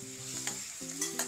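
Ground cucumber chutney mixture stirred into hot tempering in a pan, a short soft sizzle with scraping stirs, close and quiet, with no voices.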